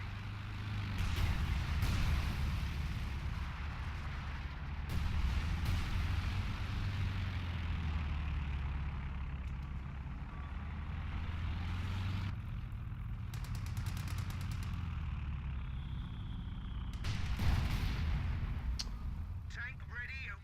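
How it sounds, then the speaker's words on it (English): Repeated booming artillery blasts from flame mortars in a World War II strategy game set around Caen, rolling continuously with loud impacts and rumble, while someone talks over the battle. "Flame mortars going down on this."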